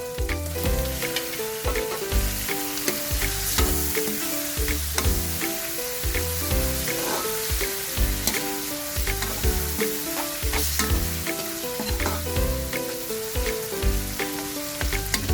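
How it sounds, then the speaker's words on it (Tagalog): Beef skin frying in a pan for beef caldereta, a dense continuous sizzle with crackling pops and stirring, close and steady throughout with no talk. "ilagay na natin itong balat ng baka"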